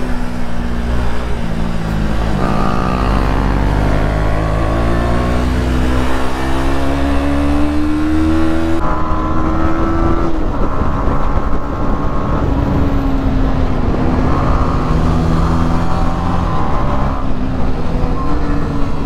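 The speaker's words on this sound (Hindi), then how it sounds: "बड़ा सही एग्जॉस्ट नोट है यार" A motorcycle exhaust note on a night ride, a loud, close, steady engine drone whose pitch climbs and settles through gear changes, running alone without voices.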